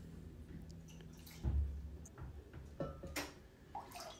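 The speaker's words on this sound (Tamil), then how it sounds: "இப்போ வந்து பொட்டேட்டோ மேஷரால் அதை வந்து அமர்த்தி" Cooked rice is pressed down in water with a potato masher, giving quiet, scattered wet squishes and drips, one firmer plunge and a few soft taps, close and faint, with no talk.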